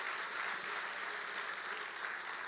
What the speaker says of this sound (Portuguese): dá uma salva de palmas e um glória a Deus bem forte